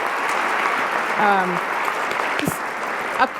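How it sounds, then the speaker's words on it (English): An audience at a panel talk on educating for a just and sustainable future claps steadily at moderate level, with a voice briefly speaking through the applause. "Can we have another round of applause for all our panelists?"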